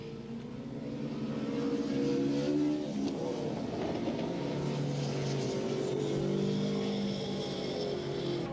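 A pack of 750-class racing motorcycles roars away from the start at Willow Springs International Raceway in a 1985 ARRA modified production race, with a loud, sustained engine drone that swells and holds steady throughout.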